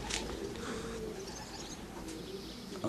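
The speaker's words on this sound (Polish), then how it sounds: "A tutaj cały czas gołębie nadlatują." Pigeons arriving at a loft coo and flutter amid steady outdoor ambience, soft repeated calls heard at moderate distance without talk.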